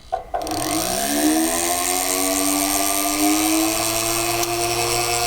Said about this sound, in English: I'm going to put my flex shaft into position now, and I'm going to start to drill.